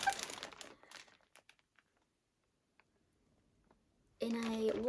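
A waterproof Ziploc bag holding knitting and tumble sheets crinkles and rustles up close as it is handled, busiest at the start, then fades to a few faint ticks before a louder, steadier sound takes over at the end.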